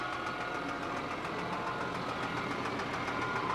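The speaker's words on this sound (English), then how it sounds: "That's the winch, Wiley" A military truck's winch runs with a steady, continuous mechanical drone and rumble, holding an even loudness with no pauses and no voices.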